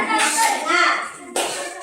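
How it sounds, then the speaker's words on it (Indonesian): A group of children claps together in a classroom-like setting, a burst of brisk clapping that dips briefly and then resumes, close and fairly loud, with young voices mixed in. "beri tepuk tangan"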